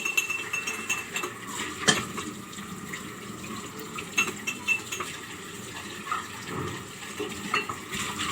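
Utensils and dishes in a home kitchen clink and clatter in scattered bursts, with running water and small metallic knocks close by and no talk.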